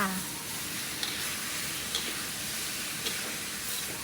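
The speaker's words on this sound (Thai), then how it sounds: "หลังจากนั้นก็จะผัดทุกอย่างให้เข้ากันดีเลยค่ะ" Cabbage and pork stir-fried in a hot wok with oyster sauce and sugar, a continuous close sizzle with faint hiss and a few light clinks of stirring.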